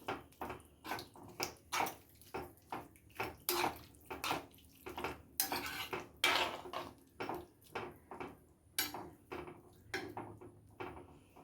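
Water is poured into lemon pickle in a kitchen, giving a string of regular splashing, clattering pulses about once a second, close and fairly loud, with no one talking.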